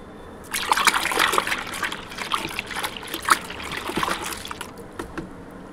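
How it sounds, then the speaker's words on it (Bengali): Rain-soaked clothes hand-washed with Surf detergent, a run of wet sloshing and dribbling splashes with irregular bursts, close and fairly loud, heard alone without talk. "ওটা একটু সার্ফ দিয়ে ধুয়ে দেই"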